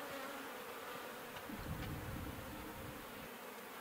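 Honey bees buzz steadily around a hive frame heavy with honey and fresh comb, a dense close hum that swells slightly midway with no talking.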